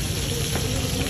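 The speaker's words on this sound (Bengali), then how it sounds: "ইলিশ মাছ ভাজা হচ্ছে" Hilsa fish sizzle in hot oil at a Mawa fish stall, a steady, close, dense crackle and hiss that runs without a break.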